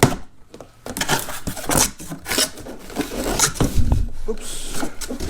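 A screwdriver scrapes and rasps as it cuts open the packaging of a Ryobi ONE+ 18-volt cordless hedge trimmer, producing close, uneven scraping and rubbing strokes with a few sharper knocks.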